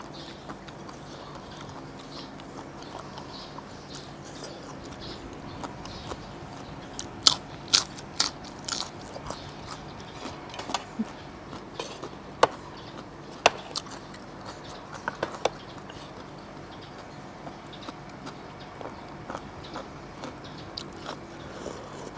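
Giant apple snail is eaten with spicy fermented-fish papaya salad, giving repeated crisp crunching bites and chewing at close range, irregular and fairly quiet over a faint steady background.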